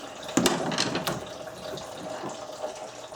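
Coolant trickling and splashing out of a Subaru radiator as the drain plug is backed out by hand, a steady wet pour with a few sharper splashes near the start.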